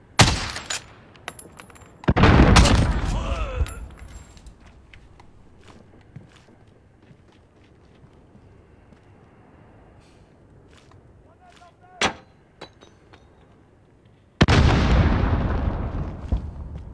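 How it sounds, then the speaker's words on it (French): Video game combat: a loud grenade blast and bursts of gunfire open the scene, quieter scattered shots and footsteps follow, then another sharp shot and a final heavy explosion. People talk over parts of it. "Grenade lancée!"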